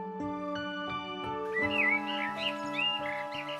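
Birds released into a forest give whistled chirps and tweets, a run of bright, rising and falling calls that grows busier partway through, close and fairly loud over a steady tonal background.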